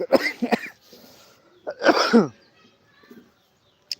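Several harsh coughs from a cold in quick bursts, close and fairly loud, with a brief pause between them and a short throat sound at the end.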